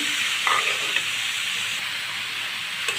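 Radish pieces and radish stalks frying with browned onions in a pan, giving a continuous close sizzle with a few brief stirring scrapes.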